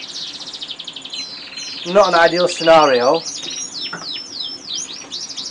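A newly hatched chick chirps repeatedly in high, thin peeps scattered throughout, close by, while someone speaks briefly in the middle over the calls.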